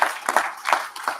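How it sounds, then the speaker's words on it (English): Brief burst of audience applause in a meeting room, several people clapping in uneven, moderately loud bursts for just over a second. "So I just want to applaud you guys."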